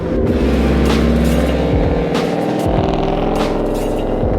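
A loud, deep engine rumbles and crackles as a straight-piped 2014 Ford Mustang 5.0 V8 passes close by, with a heavy, uneven throb throughout and no speech.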